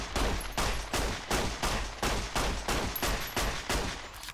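Nine evenly spaced 9mm pistol shots ring out in steady rhythm in Fallout New Vegas, each a sharp, close crack with a brief tail, with no talking.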